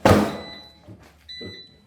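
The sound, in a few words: oven drawer being shoved shut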